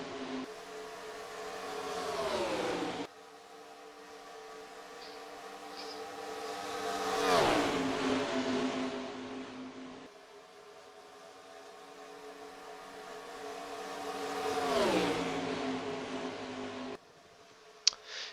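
Race car engines in NASCAR Racing 2003 at Daytona howl past in repeated waves, each car swelling loud then dropping in pitch as it passes, with steady engine drone between passes and no talk.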